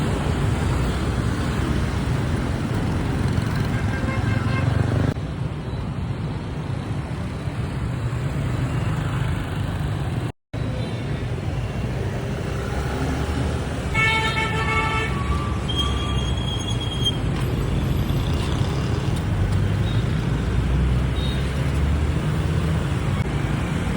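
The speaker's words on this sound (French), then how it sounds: "Ho Chi Minh City en pleine heure de pointe." Dense rush-hour motorbike and car traffic in Ho Chi Minh City, Vietnam, a steady close roar of engines with a few horn toots partway through.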